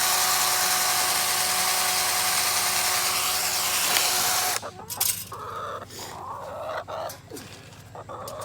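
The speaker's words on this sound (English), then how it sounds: "I got to drill the hole first." An electric drill boring a hole for an electric fence around a chicken coop outdoors, a steady loud whine running for about four seconds before it stops, followed by quieter rustling and handling noises.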